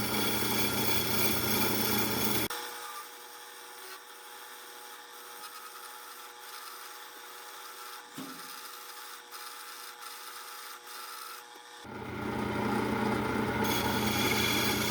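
A lathe tool plunging into spinning wood gives a steady, sustained scraping whine at moderate level for about nine seconds, set between louder broadband machine noise before and after, with no talking.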